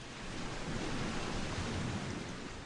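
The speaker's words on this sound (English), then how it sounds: "Every major decision I've made has been made with the sound of the waves crashing in my ears." Ocean waves break on a beach at early morning, a soft, continuous wash of surf heard faintly and from a distance, with no voices.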